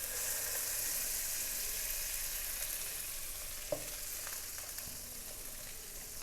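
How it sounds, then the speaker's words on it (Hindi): Butter melting in a kadai over medium heat for a chicken kebab karahi, a continuous close frying sizzle that fades slightly toward the end, with one small clink midway and no voices. "अब एक कढ़ाई लेके उसके अंदर हमने बटर डाल देना।"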